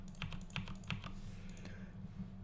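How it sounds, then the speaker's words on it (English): Computer keyboard keys clicked in a quick run of light taps while editing in Sony Vegas Pro, close and fairly soft over a low background hum, no talk. "you can hit M on your keyboard to set markers"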